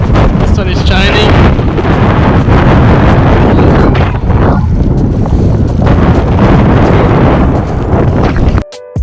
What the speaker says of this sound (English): In, headwind is strong, the views are worth it.